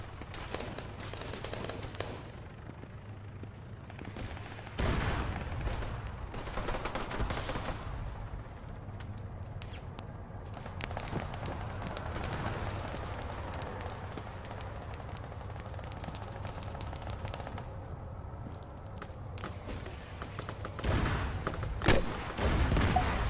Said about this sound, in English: I can hear shooting, but I can't see them.